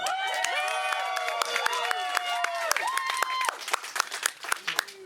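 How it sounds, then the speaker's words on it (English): Audience applause at a live comedic reading, steady broadband clapping throughout with cheering and whooping voices layered over it, loud and close, thinning slightly toward the end. "Applaud"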